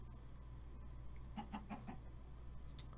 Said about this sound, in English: Hear more chickens.